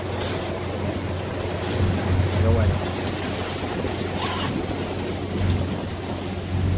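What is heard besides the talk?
heavy rain at sea on cargo ship BBC Mississippi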